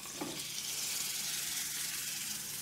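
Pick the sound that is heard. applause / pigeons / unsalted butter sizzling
unsalted butter sizzling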